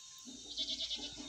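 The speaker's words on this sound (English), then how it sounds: "You can hear the goats bleat." Goats bleat faintly at a village house in Umchera, West Karbi Anglong, a few short wavering cries from a little distance over a soft high hiss of insects.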